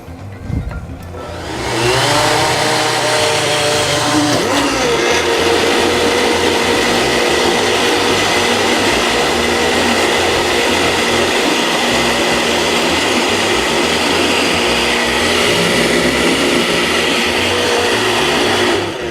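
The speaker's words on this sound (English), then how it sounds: "Hit it again on the blender." A kitchen blender whirs loudly at high speed blending sweet potato hummus, starting up after a brief pause and running continuously at a steady roar until the end.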